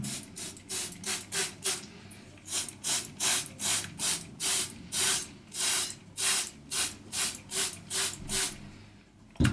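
A shower sprays water over hair being rinsed after a hair transplant, coming as a rhythmic series of short, loud hissing bursts, about two per second, with brief pauses between them.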